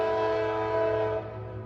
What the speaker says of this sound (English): It's train time.